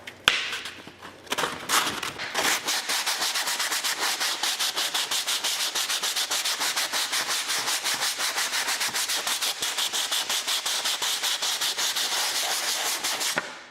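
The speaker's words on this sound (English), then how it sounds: "I'm using a rough sandpaper, and I'm gonna sand this surface" Rough sandpaper worked in circles over a gessoed painting canvas makes a fast, even run of rhythmic scraping strokes, close and loud, after a few irregular scuffs at the start.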